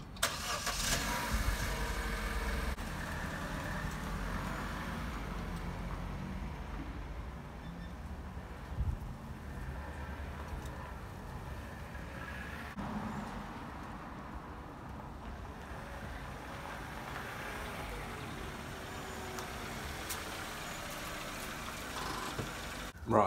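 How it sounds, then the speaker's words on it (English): A Vauxhall Corsa D engine turns over and settles into a steady idle, a continuous low rumble that carries on outdoors for the whole stretch with small shifts in level. "I'm going to spin the car around and crack on."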